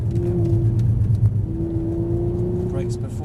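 A Mercedes-Benz car on a driving track powering out of a corner, engine holding a steady droning note and pulling on after a brief dip, with people talking over it.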